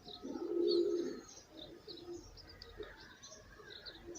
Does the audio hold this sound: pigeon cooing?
yes